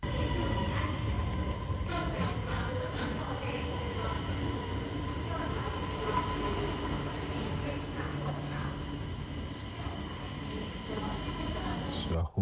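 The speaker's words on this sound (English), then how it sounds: "So I hopped back on the train." Continuous rumble and rattle of a train carriage riding along the rails in China, heard from inside the car, steady and moderately loud for the whole stretch with faint background murmur.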